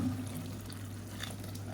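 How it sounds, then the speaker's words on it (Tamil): Water is poured into rice being prepared for biryani, giving a brief, soft, steady pouring splash over a low background hum. "அதனால் நான் வந்து 2 டம்ளர் எடுத்ததுனால 4 பங்கு தண்ணி வச்சுருக்கேன். இதை சேர்த்துக்கலாம்."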